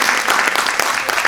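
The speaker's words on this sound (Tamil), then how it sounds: "எல்லாரும் அவங்க நல்லா கைத்தட்டி பாராட்டுங்க பார்ப்போம்" A Tamil debate-forum audience at the Delhi Tamil Sangam claps and applauds, a steady, dense wash of many hands at a loud, even level with no pauses.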